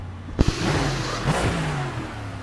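A Lexus GT3 race car in a racing video game revs hard after a sharp double click, its engine note climbing and holding a steady drone with a brief surge midway, close and loud throughout.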